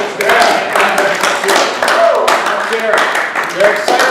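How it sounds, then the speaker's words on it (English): Audience clapping and cheering for Providence Catholic High School's third straight state baseball championship: a steady patter of many hands, fairly close and lively, with whoops mixed in throughout. "You guys want to give me a little cheer for that?"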